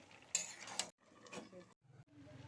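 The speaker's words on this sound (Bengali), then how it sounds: "তরকারিটা বারবার নাড়াচাড়া করে বড়িগুলো ভালো করে মিশিয়ে দিচ্ছে তরকারির সাথে" A spoon scrapes and clinks against a pan while spinach curry with badi is stirred, a few short metallic scrapes broken by brief pauses, quiet and close.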